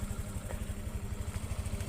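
Motorcycle engine climbing a low slope near a grotto in Cebu, running close by with a rapid, uneven putter and chugging low throb, steady and loud for the whole stretch.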